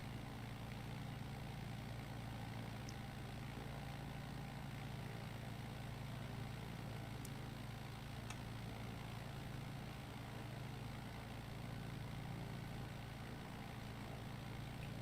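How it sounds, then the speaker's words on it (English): Warbird aircraft engines idle in a simulated Alaska bush flight setting, a continuous low droning rumble that stays steady and fairly loud throughout, with no talking. "I just love the sound of those Warbird engines"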